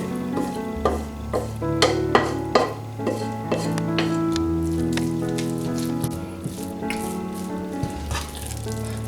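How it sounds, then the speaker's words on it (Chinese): Red bean paste being stir-fried in a pan over low heat, with a spatula scraping and turning it in repeated strokes at close range over a steady tonal background. "它这个炒的过程要有一点耐心，放在小火，不停的翻动"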